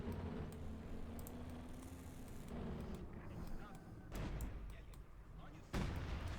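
Battle sounds from the video game Company of Heroes 2: scattered gunshots and booming artillery crack at varied distances over a constant rumbling backdrop, with a sharp loud blast near the end.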